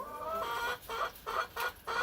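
Chickens in a coop clucking close by, a run of about five rhythmic clucking bursts in quick succession, clear and fairly loud with no talking.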